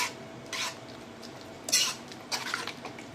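Ridge gourd kootu being stirred in a pan, three short scraping strokes of a spoon against the metal at close range, separated by quiet pauses.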